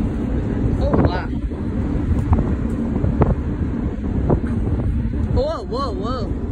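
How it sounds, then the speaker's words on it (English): Ocean wind gusts buffet the microphone on a mini golf course at night in a continuous low rumble, while people chatter and exclaim over it and a few short whistling tones come near the end. "the wind's gonna blow it in"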